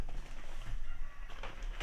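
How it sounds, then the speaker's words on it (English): Roosters cluck and crow faintly in the distance on a rainy day, brief calls under a steady background hiss. "listening to the roosters crow"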